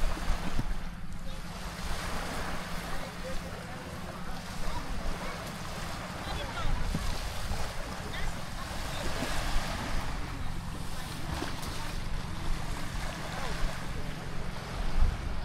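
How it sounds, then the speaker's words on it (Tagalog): Sea waves roll steadily onto Paliton Beach on Siquijor, a continuous broadband wash with wind buffeting the microphone throughout and no one speaking. "So makikita nyo itong dagat,"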